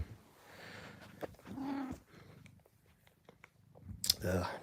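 A pet cat makes soft purring and short vocal sounds close by. A person speaks quietly at the same time, and a louder meow-like cry comes near the end.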